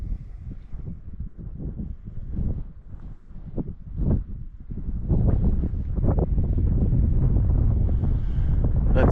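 Strong wind buffets the microphone on an exposed hilltop above a lake in the Barrens of Canada's Northwest Territories, a continuous low roar that gusts and then grows louder and steadier in the second half, with no one speaking.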